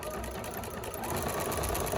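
A sewing machine runs a quick, steady stitch while quilting the main fabric to the batting without the lining. The mechanical whir is continuous and close, with no talking.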